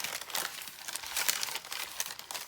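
Leftover paper and repurposed envelopes being handled for a torn-pages junk journal, giving a steady, close crinkling and rustling with small crunchy peaks throughout and no talk.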